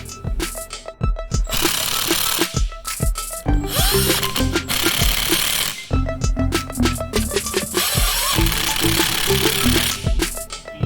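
A power tool bolts a power steering pump onto a Coyote-swapped Bronco during a serpentine system install. It gives loud, rattling bursts of driving, broken by short pauses and clanks of metal, close by.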